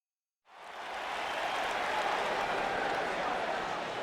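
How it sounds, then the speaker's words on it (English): A wrestling arena crowd in WWE 2K19 swells from silence into a steady, loud roar of cheering and applause that holds evenly to the end. "The crowd is buzzing with excitement."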